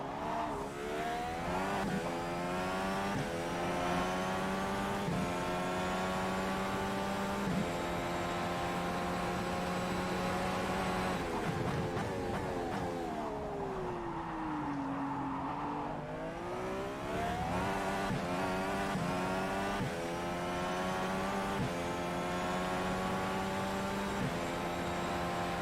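An Indy Car engine in the rFactor racing sim at Sebring, run in a rig, drones loud and continuous as it revs up through the gears in repeated climbing sweeps, easing back mid-run before accelerating again.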